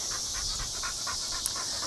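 A dog pants in a steady rhythm of quick breaths, close and fairly even, with no talk over it.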